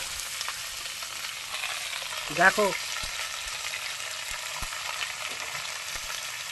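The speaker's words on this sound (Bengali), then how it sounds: "সর্ষের তেল দিয়ে দিলাম, একটু শুকনো লঙ্কা গোটা জিরে ফোড়নে দিয়ে দিলাম। ফোড়নটা একটু ভাজি।" A tempering of dry red chilli and whole cumin fries in mustard oil, making a steady close sizzle. A short spoken word and a brief louder clatter break in midway.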